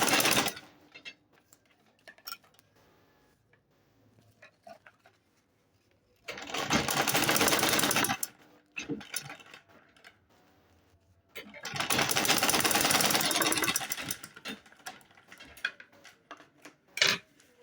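A sewing machine top stitching a leather ladies' handbag, running in two loud, steady bursts of several seconds each, with quiet handling clicks and rustles between the runs.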